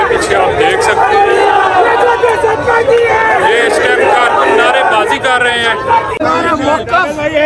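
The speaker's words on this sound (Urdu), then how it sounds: "کارکن بھنگڑے ڈال رہے ہیں اور شدید نعرے بازی کی جا رہی ہے اس میں، اور سپریم کورٹ زندہ باد کے نعرے لگائے جا رہے ہیں" Political party workers celebrating in an outdoor square, a loud dense crowd chanting slogans and cheering continuously, with overlapping shouts and babble close by throughout.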